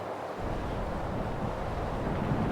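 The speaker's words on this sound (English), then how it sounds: "To say it's windy out here would be a major understatement." Strong wind roars steadily on the exposed northwest coast of Scotland near Durness, buffeting close and loud with a constant low rumble, like gusts battering an open coastline.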